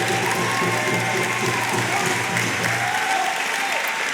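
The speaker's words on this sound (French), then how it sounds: "je voudrais qu'on les applaudisse très très fort" A political rally crowd for municipal elections in Saint-Denis applauds loudly and continuously, dense clapping filling the hall with a few cheers and voices mixed in.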